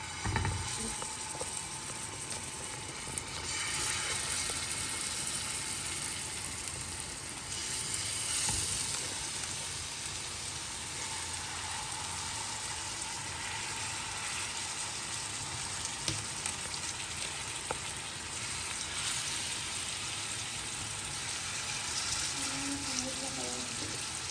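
Oil poured onto a hot dosa griddle sizzles in a dense, steady hiss that stays loud and unbroken, with faint clicks of kitchen activity underneath.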